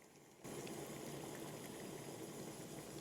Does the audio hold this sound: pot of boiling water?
yes